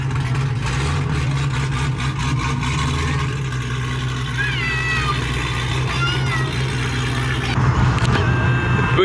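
Ford Mustang S650 rolling into a Texas car meet, its engine holding a loud, close, steady low rumble that swells slightly near the end, with faint voices in the background.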